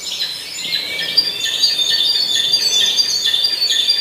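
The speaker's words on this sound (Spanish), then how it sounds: "vamos a fijar este pajarito que suena" A small songbird sings a complex, medium-paced song of high, bright chirping notes, close and clear over a faint background hiss.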